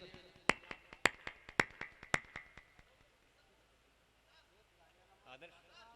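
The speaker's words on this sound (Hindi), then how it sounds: "एक बार तालियां होनी चाहिए सर के लिए" A handful of sharp, distinct claps ring out in an irregular burst at a Hindi poetry gathering in Mallawan, Hardoi, dying away quickly into near silence before faint talking returns.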